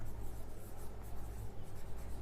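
Chalk or marker scratching steadily on a board during a chemistry lesson, a continuous close rubbing scrawl over low background hum, with no talk.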